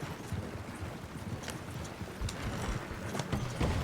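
Horse hooves clip-clop on a road in a Western roleplay video game set in 1903, a steady close rhythm of hoofbeats over a low background rumble.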